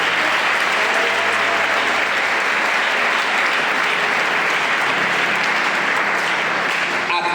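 A congregation applauds loudly and continuously at a church award ceremony honouring pastors, the dense clapping filling the whole space without a break and a few cheers rising within it.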